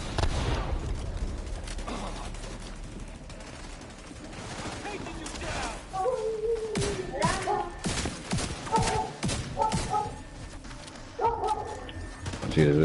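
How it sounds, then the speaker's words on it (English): Gunfire in The Division 2, bursts of shots and loud combat noise running throughout under a busy game mix. "Somebody shooting from my back."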